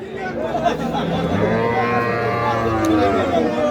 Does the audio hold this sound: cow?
yes